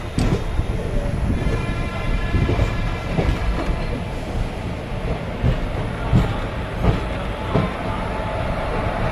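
A train rumbles and clatters steadily close by as it arrives at Pondicherry railway station, with rhythmic wheel clicks and occasional faint squeals.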